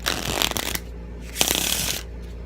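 A deck of playing cards is riffle-shuffled twice in quick succession, each a crisp fluttering burst lasting under a second, close and clear.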